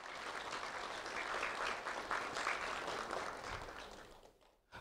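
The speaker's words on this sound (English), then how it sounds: "A round of applause for them." An audience at a community recognition ceremony applauds for several seconds, a fairly quiet, dense clatter of hands that swells midway and fades out at the end.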